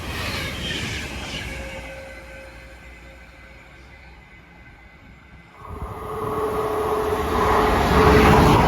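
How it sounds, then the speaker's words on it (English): An Avanti West Coast Class 390 Pendolino, unit 390130, running from Manchester Piccadilly to London Euston passes through Watford Junction, its hum fading to a lull, then a rising, loud rush of the passing train. "it's Manchester Piccadilly to London Euston. Avanti West Coast 390-130."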